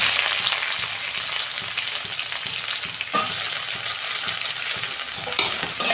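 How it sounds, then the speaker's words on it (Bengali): Onions fry in hot oil with black cumin in a kadai, a steady close sizzle and crackle with soft stirring scrapes throughout and no voices. "ওই তেলে পেঁয়াজ দিচ্ছি"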